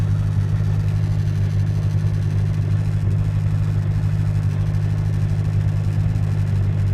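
A diesel VW Jetta engine running close by, a steady low, rumbling idle that holds even and unbroken throughout with no clear rev.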